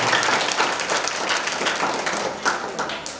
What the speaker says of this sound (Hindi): भगवान भोलेनाथ कैलाशपति पधार रहे हैं, जोरदार तालियों से स्वागत करें।